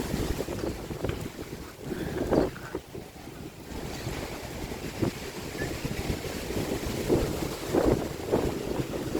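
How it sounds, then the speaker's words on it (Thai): Strong wind at Khao Yai: a steady, gusty roar buffets the microphone, swelling and easing in irregular surges throughout, with no other clear sound standing out. "ลมแรงมาก"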